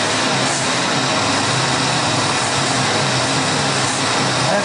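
Car engine with a faulty, lean-running carburetor, held under load on a dyno, giving a loud, steady, broadband roar with no breaks, heard close up.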